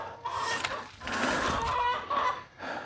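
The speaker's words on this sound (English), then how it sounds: "That is the last 2 chickens' war cry." Several chickens cluck and squawk close by, loud agitated calls coming in bursts with short pauses between.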